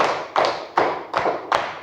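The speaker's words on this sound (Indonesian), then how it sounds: "Konsentrasi, tepuk tangan" Four sharp hand claps in an even rhythm, close and fairly loud, each with a short bright decay and no voices in between.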